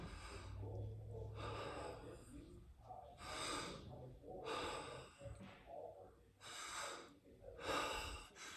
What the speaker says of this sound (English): and we do the breath again.